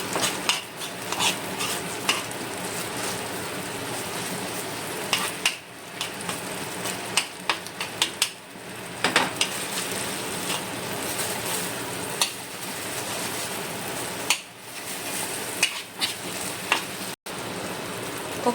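Chili paste with vinegar frying in a pan, a constant close sizzle with repeated scraping stirs and occasional utensil clinks against the pan over an extended stretch.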